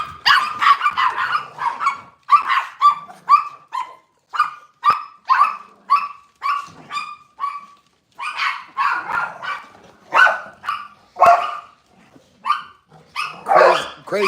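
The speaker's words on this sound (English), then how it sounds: "Crazy dogs." Several dogs in a household of nine bark repeatedly and close by in sharp, loud bursts with yips and short pauses between volleys.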